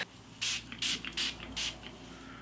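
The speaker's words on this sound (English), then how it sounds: "I'm going to spray this really thoroughly throughout my hair." Aussie Miracle Moist conditioning spray mists onto hair in four quick, close hissing bursts spaced about half a second apart, with quiet rustling between them.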